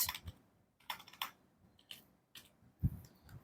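Bursts of keystrokes on a computer keyboard while a SQL query is written, clustered clicks in short irregular runs with pauses between, close and fairly quiet, with no talking.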